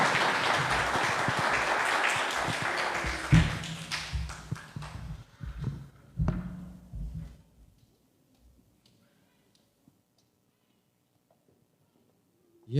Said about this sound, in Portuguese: Aplausos ao Senhor, irmãos.